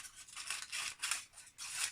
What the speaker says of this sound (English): you might need your scissors just to trim off the extra bits